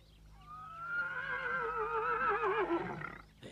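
A horse whinnies in a long, wavering call that rises and trembles before fading, loud and close, with no talking.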